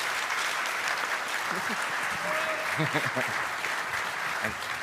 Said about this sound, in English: please give a warm applause to our panel members.